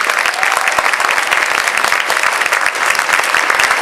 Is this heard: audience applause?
yes